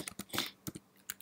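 Quick keystrokes on a computer keyboard as a project name is entered, several close, crisp clicks in short bursts with brief pauses between them.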